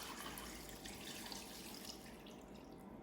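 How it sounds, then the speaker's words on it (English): Water pours into a slow cooker full of pork, a soft steady splashing stream, quiet and unbroken for a few seconds. "I'm gonna top this with 4 cups of water."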